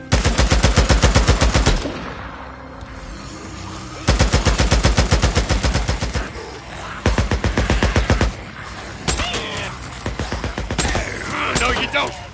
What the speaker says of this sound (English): Just keep up a steady stream of fire, all right?